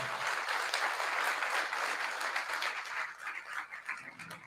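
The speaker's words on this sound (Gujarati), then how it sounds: "આના માટે તમે તાળી વગાડો." Applause from an audience at a religious discourse gathering in Mumbai, steady and fairly loud for about three seconds, then thinning out into scattered claps.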